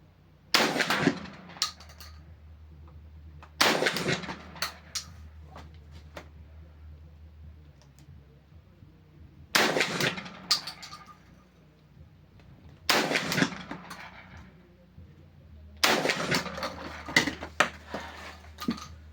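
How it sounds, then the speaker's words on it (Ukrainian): A rifle fires TAKHO sub-caliber bullets through a muzzle attachment at a 50-metre range. Five loud, sharp reports ring out several seconds apart, each with a short decay, and no voices are heard. "Давайте спробуємо відстріляти її ще раз повторно з іншої дульної насадки. Дистанція 50 метрів."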